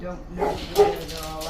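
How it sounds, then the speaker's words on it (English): A dog whimpers and gives a short yip under a person's speech, close by, brief and mixed with the talking. "I apologize for the dogs"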